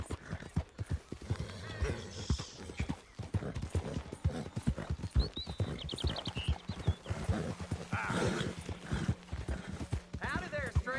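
Horse hooves clip-clopping in a rapid, continuous rhythm in the Red Dead Redemption video game, with occasional whinnies, close and fairly loud while voices talk throughout.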